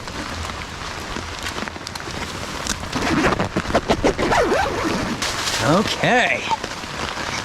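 Heavy rain drums steadily on a NatureHike Opalus 3 tent, a dense close patter that grows louder partway through, while someone inside speaks briefly.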